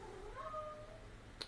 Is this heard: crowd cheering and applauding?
no